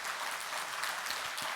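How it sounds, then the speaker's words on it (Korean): A congregation at a Catholic Holy Spirit seminar in a Korean parish church applauds in a brief, steady burst of many hands clapping, moderately distant and even throughout. "우리 주님께 박수 한번 쳐야 되지 않겠습니까?"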